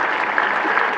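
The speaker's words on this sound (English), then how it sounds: "Let's give them a round of applause for helping you" A college commencement crowd at Queens College applauds, a brief, loud, dense burst of clapping filling the hall.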